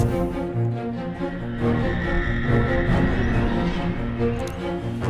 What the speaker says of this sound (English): this sound was also gotten from the Project Sam Free Orchestra, and the preset I'm using is called Dystopian Drones